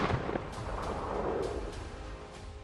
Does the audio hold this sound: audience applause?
no